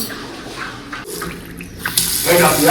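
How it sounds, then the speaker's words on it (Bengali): Tap water runs into a sink, a steady broadband rush that swells louder toward the end, with a voice speaking faintly at times. "কত পড়ছে জল বেরোচ্ছে দেখো"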